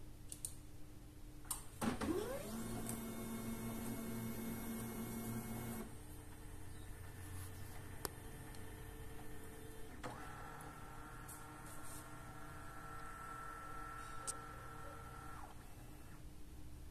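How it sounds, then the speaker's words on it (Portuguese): An HP Laser MFP 135w printer scans book pages: a motor whirs up, then a steady mechanical scanning hum, a pause with clicks, and a second tonal scan pass, all faint and with no talk. "Vamos clicar aqui, digitalizar."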